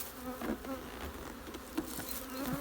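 Honeybees buzz steadily around a homemade beehive in February, a close, continuous droning hum with a few louder passes of individual bees.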